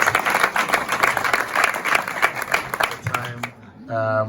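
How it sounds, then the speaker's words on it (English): An audience of senior high school students in Ghana claps at an education donation event, a dense patter of hands for about three seconds that thins out, then a voice starts near the end. "So clap well, because it is possible."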